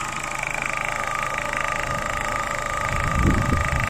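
A 2000 Holden Astra with a Z18XE engine and a failed mass air flow sensor idling, then briefly revved near the end with a rising low rumble under a steady mechanical hum.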